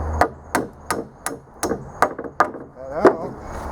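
A hammer strikes salvaged wooden boards from a dumpster to knock them apart, about nine sharp, evenly spaced blows ringing close and loud with brief decays between them.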